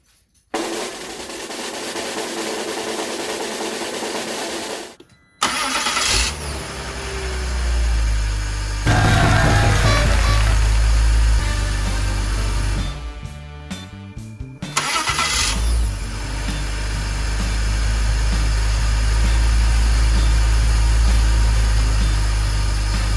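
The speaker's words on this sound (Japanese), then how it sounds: "エンジンをかけてみましょう" A BMW E85 Z4, just fitted with a replacement starter motor, cranks briefly, then catches and settles into a steady, loud idle with engine vibration, heard close up and with no talk.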